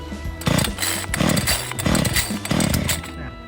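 A 2021 EURO 1700+ multipurpose gasoline chainsaw engine running nearby, loud and rough, with a steady idle broken by four rhythmic surging pulses about half a second apart.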